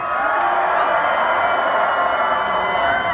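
A concert crowd at the House of Blues in Anaheim roars continuously in a loud, dense wash of cheering and scattered whoops at a hip-hop show, with a voice or music blended faintly into the din.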